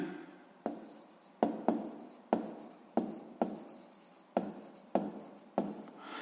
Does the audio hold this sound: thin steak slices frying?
no